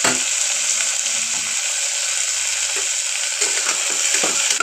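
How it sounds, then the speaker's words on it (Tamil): Whole dried red chilies dropped into hot oil with tomatoes in a pan while cooking paruppu sadam (dal rice), giving a steady, close, loud broadband sizzle and crackle throughout with occasional stirring scrapes and no talk. "ரெண்டு காஞ்ச மிளகாய் முழுசாக அப்படியே போட்டுருவோம்"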